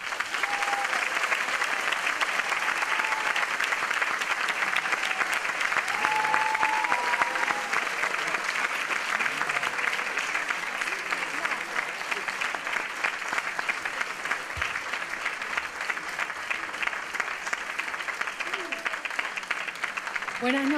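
Sustained audience applause fills a concert hall at a cultural evening, a dense, steady wash of clapping with a few cheers that holds for about twenty seconds before easing slightly.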